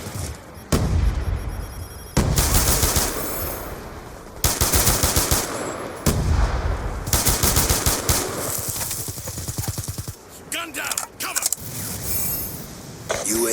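Rapid assault rifle fire from Call of Duty bursts out in repeated loud volleys with short gaps, mixed with explosions and game effects throughout.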